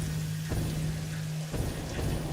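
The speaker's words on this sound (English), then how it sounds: "I can really hear the rain hitting the, foundation." Steady rain drums on foundations in the video game Satisfactory, a dense, continuous patter with a low steady hum underneath and no voices.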